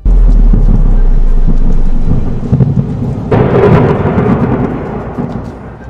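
Heavy thunder from lightning strikes rumbles loud and close, a deep sustained roll followed by a sharper crackling burst, with rain faintly beneath and no voices.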